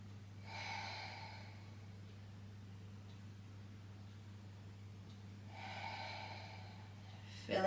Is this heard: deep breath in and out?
yes